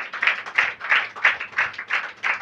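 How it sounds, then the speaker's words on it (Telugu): A church congregation at a Telugu pastor's sermon claps hands together in a steady, even rhythm, about three claps per second, sharp and fairly close with no voices over it. "చప్పట్లు కొట్టినప్పుడు"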